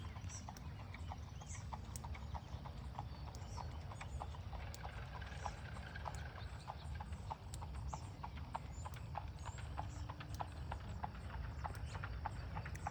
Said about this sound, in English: You hear the clapping of the hoofs.